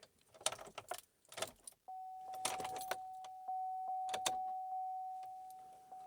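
Keys jangle in sharp clustered bursts near an older GMC Yukon with a fuel pump fault, then a steady electronic tone hums as the ignition switches on, the key clatter continuing over it.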